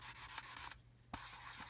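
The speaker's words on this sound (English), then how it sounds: "You can actually sand your decals." A 2,500 grit sponge sands the decals on a scale model, making quick, close scratchy rubbing strokes that stop briefly midway and then resume, with no talking.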